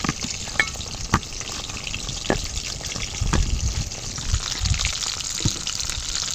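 Pointed gourd (potol) frying in hot oil, a loud, close, continuous sizzle with occasional sharp pops and spatters and no talk.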